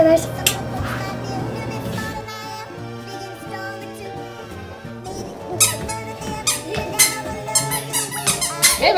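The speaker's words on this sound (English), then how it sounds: "Who's making a squeaky shoe?" A squeaky shoe squeaks in a toy play scene, giving bright pitched squeaks in an uneven series, with voices and light clattering in the background.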